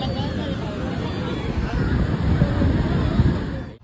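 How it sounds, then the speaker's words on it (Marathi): Sea waves wash steadily onto Ganpatipule beach in a continuous broadband roar, with wind buffeting the microphone and a faint crowd murmur beneath. "लाटा बघा लाटा."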